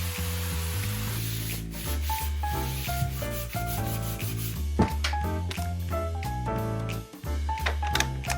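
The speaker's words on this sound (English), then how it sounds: "I have to sand." Sanding a wall while renovating an apartment: steady, raspy rubbing strokes in an even rhythm, heard close, with music playing underneath throughout.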